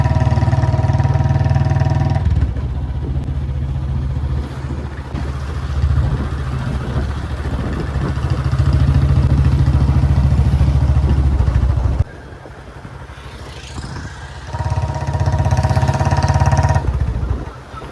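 A Bullet motorcycle engine runs close by in Viramgam, a deep thumping drone that stays loud through most of the clip, softens for a few seconds mid-way, then returns.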